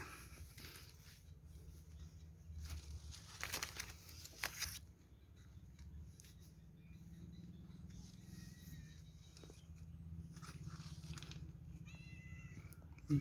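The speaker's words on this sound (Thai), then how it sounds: "มีแมวนะครับแมวหลายตัว" A cat in a date palm orchard meows a few times, faint and somewhat distant, with rustling and other quiet outdoor noise around it.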